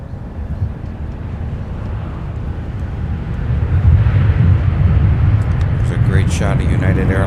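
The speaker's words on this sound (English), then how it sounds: "Great shot of United Airlines utilizing the Airbus 319 today, inbound from San Francisco." A United Airlines Airbus A319 airliner inbound from San Francisco roars steadily at an airport, its engine rumble building partway through and holding loud over wind noise, with voices talking faintly over it.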